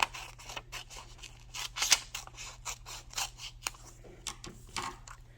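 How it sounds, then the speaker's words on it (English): Scissors trimming excess paper off a folded sheet to make a square, a rapid series of crisp snipping cuts close up, irregular in rhythm, over a faint steady hum with no voices. "We're going to cut that right off."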